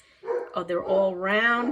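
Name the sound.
dog barking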